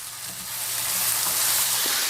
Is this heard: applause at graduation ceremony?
no